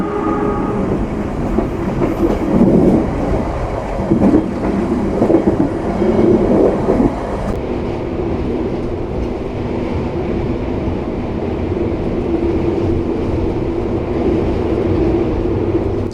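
The Mutiara Selatan train in Java rolls steadily and loudly along the rails at about 120 km/h, a continuous rumbling roar with a faint rhythmic clatter of wheels, no voices.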